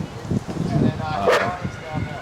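A dog in an e-collar training session to go to its place gives a few short barks and yips in the background while people talk over it.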